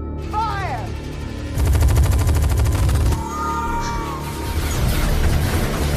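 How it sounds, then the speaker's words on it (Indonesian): A Gatling gun fires a rapid, dense burst in a scene from the 2012 film Dredd, loud and close, set among other action effects with a voice speaking over parts of it. "lokasinya Dredd, klan Mama pun mulai menembakkan Gatling gunnya"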